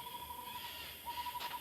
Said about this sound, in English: There's some other birds.